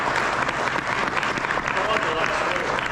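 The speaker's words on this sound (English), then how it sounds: "Let's give our panelists a round of applause" Loud, dense applause from an audience for Veterans Day leadership panelists, a continuous wash of clapping with crowd murmur mixed in.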